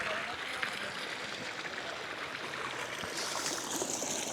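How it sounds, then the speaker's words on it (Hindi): Water pumped from a borewell pours steadily into a small concrete tank beside fields near a river, a continuous rushing splash heard at moderate distance under light outdoor background noise. "तो अब ये देखिए ये पानी यहाँ गिर रहा है"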